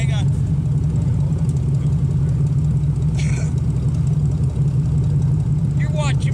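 A car engine idles before a race across a field, a steady, loud low-pitched drone that runs unbroken from start to finish, with a few brief higher sounds over it.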